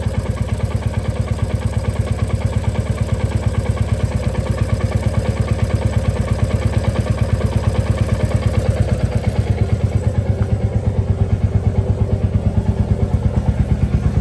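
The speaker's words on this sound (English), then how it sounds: "The engine clatter is less." A Royal Enfield Classic Reborn single-cylinder engine idles at close range with a steady, even thump and a light mechanical clatter, continuous and loud with no voices.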